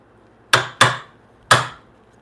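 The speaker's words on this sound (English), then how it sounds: "Ooh, that was a nice cut right there. This chisel is super sharp." Three sharp chisel strikes cutting a timber frame joint for diagonal braces, crisp woody chops close and loud, two in quick succession then a third after a short pause, with no talk.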